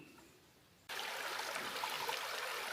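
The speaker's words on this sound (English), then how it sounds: "it's a beautiful flowing stream up here" A flowing mountain stream beside a trail camp rushes steadily and close by, a broadband wash of water that starts abruptly after a quiet moment and then holds loud and constant.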